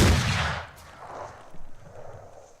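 A single gunshot in the Mordheim: City of the Damned video game, a loud close blast at the start that decays into a brief fading rumble.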